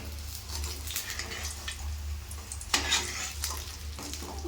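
Food fries in a pan after being flipped, a soft steady sizzle under a low hum, broken by a few light scraping and stirring clicks.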